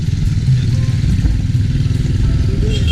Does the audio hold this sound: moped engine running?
yes